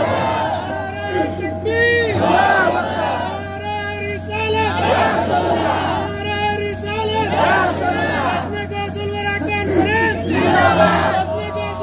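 A large gathering answers a Nara-e-Takbeer call with loud, repeated shouts of Allahu Akbar, rising in waves of massed voices over a constant background hum, with individual voices standing out within the roar.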